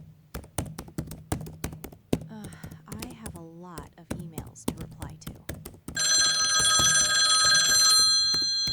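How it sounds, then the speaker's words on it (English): Sharp keyboard clicks and taps come first, then a loud, continuous electronic telephone ring starts and keeps going to the end. "My phone is ringing."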